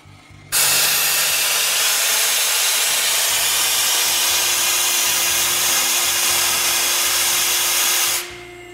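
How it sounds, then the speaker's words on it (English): Compressed air pressure released from an oil accumulator tank makes a loud, steady, broad hiss that starts abruptly, holds evenly for about eight seconds, then cuts off, over a low machine hum. "And I will also release some air pressure."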